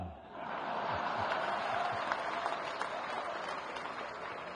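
A large crowd at a panchayat secretaries' conference in Bhopal claps steadily, a dense, continuous patter of applause that holds evenly throughout.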